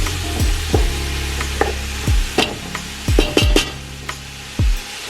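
Sausage being stirred into a pan of creamy cheese sauce for mini ravioli, with a spoon scraping and clinking against the pan in several short, uneven strokes over a low sizzle, close up and with no talking.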